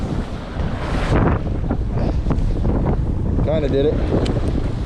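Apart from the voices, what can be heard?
strong wind by a lake shore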